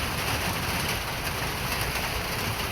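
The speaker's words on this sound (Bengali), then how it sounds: "এই বৃষ্টির শব্দটা" Steady rain falling on a cloudy, overcast day, a dense continuous hiss of drops outdoors among trees, fairly close and even throughout with no talking.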